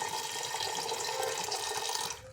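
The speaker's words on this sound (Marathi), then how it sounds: "त्यामध्ये पाणी घालायचे" Water runs steadily in a close, continuous stream into a pot of whole pigeon peas for soaking, for a couple of seconds, then stops abruptly near the end.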